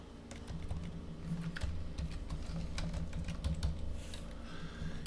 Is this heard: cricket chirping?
no